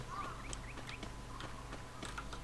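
Quacking ducks in the Garena Free Fire game, several short calls scattered over a steady low hum of game ambience, moderately faint with no talking.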